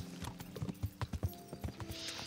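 Horse hooves clip-clopping in Kingdom Come: Deliverance, a steady series of close, distinct hoof strikes at a walking pace with a faint whinny-like tone near the end; no talking.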